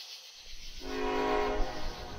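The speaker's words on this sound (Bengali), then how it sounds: "আবার একটা ট্রেনের বাঁশি শুনতে পেলুম কানে।" A train whistle sounds as a sustained, wavering tone over low rumbling rail noise, starting softly and swelling to a fairly loud steady blast, set in a dark rainy night near a rural station.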